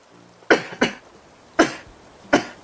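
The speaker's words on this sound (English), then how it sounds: "I'm sorry if I have to cough more than I want to." A person with an irritated, acting-up throat coughs four times: two quick harsh coughs close together, a pause, then two more single coughs, loud and close with no talking.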